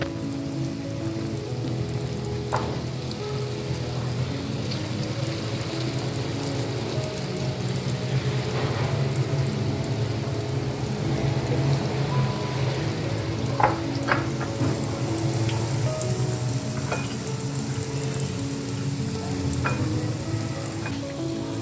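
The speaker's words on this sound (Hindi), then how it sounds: "ये पैन में जा रहा है। इसमें पैन में फ्राई करेंगे हम गोल्डन कलर आने तक।" Potato fingers coated in noodles and egg frying in a pan over medium-low flame, a steady dense sizzle like light rain with scattered crackles and pops, continuous and without talk.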